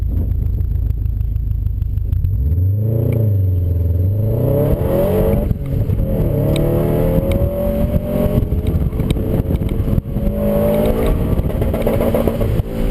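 A car being driven on a track at about 90% pace, engine revving loudly and continuously with rising and falling pitch through shifts and corners, close and dominant throughout.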